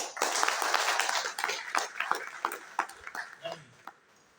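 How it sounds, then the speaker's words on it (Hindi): An audience at a meeting gives a burst of applause that starts full and then thins into scattered, separate claps before fading out. "एक बार जबरदस्त तालियां बजाइए"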